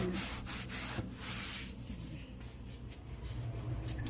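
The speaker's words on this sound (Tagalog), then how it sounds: "Tingnan natin kung matanggal pag kinuskus natin." Steady rubbing and scrubbing on a countertop stained with yellowish old oil, continuous close friction strokes at moderate level with no talk.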